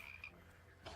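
A toad croaking in the fantasy kingdom-building game Lessaria: Fantasy Kingdom Sim, a faint, brief raspy croak over soft in-game background ambience.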